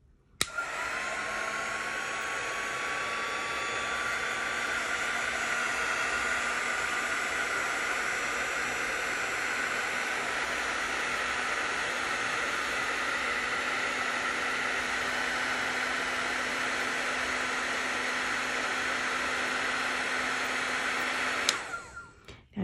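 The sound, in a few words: heat gun blowing on Shrinky Dink plastic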